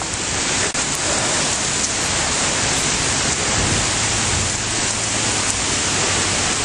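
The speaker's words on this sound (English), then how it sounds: "A lot of rain. Good for the garden." Steady heavy rainfall from a July thunderstorm in Regina hisses loudly and evenly throughout, a dense wash of drops with no voices.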